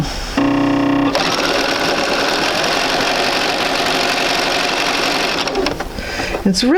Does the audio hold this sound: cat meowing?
no